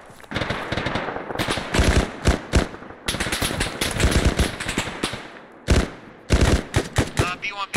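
Arma 3 rifle and machine-gun fire from a hillside firefight crackles in loud, dense bursts of rapid shots. Short pauses separate the volleys.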